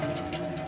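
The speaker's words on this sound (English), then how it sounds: "We'll open all the taps up on the hot side." Water running steadily from an opened hot-side tap in a 2017 Coachman Wanderer caravan, a continuous close hiss and splash with a faint steady hum underneath.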